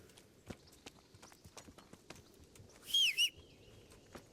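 In the medieval role-playing game Kingdom Come: Deliverance, a horse answers its rider's whistle, sharp hoof clops thudding across open ground. A loud brief whistle cuts in partway through, with faint birdsong behind.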